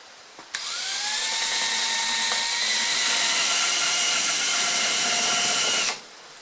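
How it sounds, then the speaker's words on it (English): A drill spins a wire brush against an aluminum valve cover, a loud steady high-pitched whirring scrape that starts abruptly, holds for about five seconds and then stops. "This is where the wire brush on a drill is going to come into play."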